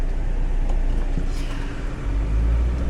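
A car drives along at a steady pace, its low engine and road rumble filling the cabin as a continuous, fairly loud drone without talking.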